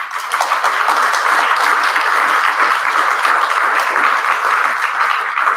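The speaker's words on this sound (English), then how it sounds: "So round of applause for them" A loud, sustained round of applause fills a room at a history teachers' meetup, dense overlapping claps from many people with no talk.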